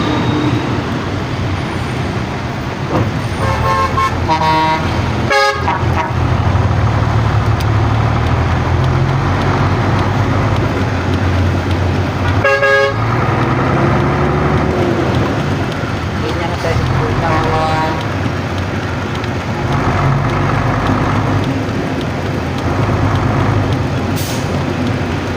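Steady roar of congested expressway traffic with engines and tires rumbling close by, broken by a few short horn-like honks and a brake hiss, while people talk over the noise.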